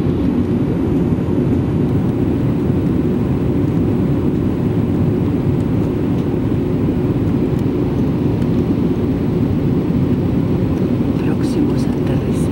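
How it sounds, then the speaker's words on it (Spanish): Inside an airliner on its approach to land at Neuquén, a steady, loud cabin drone of engines and airflow fills the whole stretch without a break. "Próximos a aterrizar en Neuquén."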